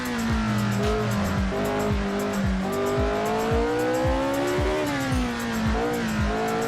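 A historic McLaren Formula 1 race car roaring in Assetto Corsa at Long Beach, its loud engine note climbing and dropping repeatedly through rapid gear shifts, steady and close with no talk.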